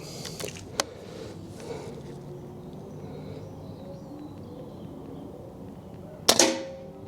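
An AirMaks Katran air rifle fires, one sharp crack near the start and a louder report near the end with a brief ringing tail, outdoors with faint birdsong and no talking.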